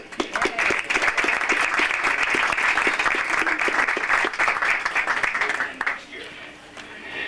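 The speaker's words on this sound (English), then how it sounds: "Again, another round of applause for them." A ski club banquet crowd breaks into sustained applause, a thick wash of many hands clapping for about six seconds before thinning out, with voices murmuring beneath.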